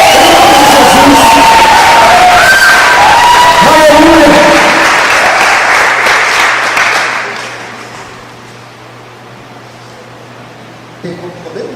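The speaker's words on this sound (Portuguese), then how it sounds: "Então aplauda o Senhor em nome de Jesus." A church youth camp crowd cheers, whoops and claps loudly for several seconds, a voice calling out over the noise before the applause fades away to quiet.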